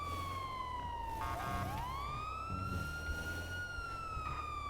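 A wailing siren in a video game rises and falls in smooth sweeping tones, loud and continuous over a steady engine-like hum, with no one talking.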